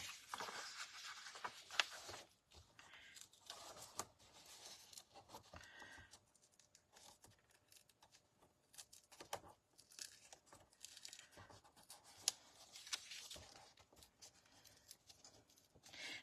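Adhesive paper is peeled off a piece of a papercraft kit by hand, giving faint, intermittent tearing and crinkling sounds in short bursts separated by quiet gaps, with no talking.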